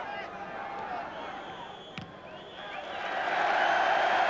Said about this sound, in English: And the crowd applaud a very good half